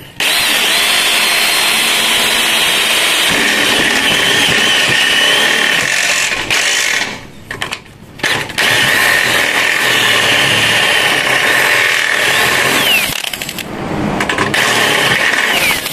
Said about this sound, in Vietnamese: mình khoan cho nó rộng ra xíu để mình dễ chỉnh